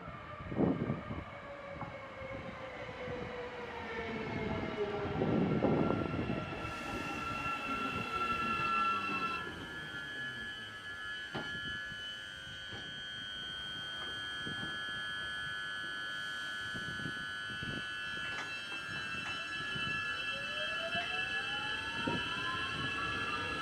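KiwiRail DSG 3155 locomotive hauling Train 482 through Wellington, a steady rolling rumble with long, high metallic wheel squeals that rise and fade, loud and close, with no voices.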